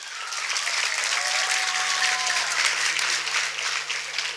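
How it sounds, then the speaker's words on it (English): A crowd applauds steadily for the finalists of a kids' talent show, dense sustained clapping filling the hall with a faint whistle-like tone running underneath. "A round of applause to them."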